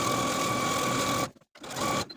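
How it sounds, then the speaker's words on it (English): A sewing machine stitches a pant hem close to the serged edge, running steadily at a fast whir, pausing briefly, then resuming. "take it back to your sewing machine and sew close to those serging stitches all the way around"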